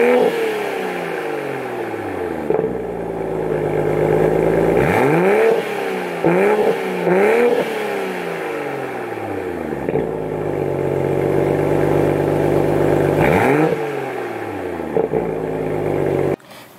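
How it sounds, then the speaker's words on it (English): Toyota A90 Supra with an AWE exhaust, valve open in sport mode, idling and being blipped: a steady deep burble broken by several sharp revs that rise and fall back, loud and close with no talk. "I figure I'll get you a little bit of idle. This is sport mode right now."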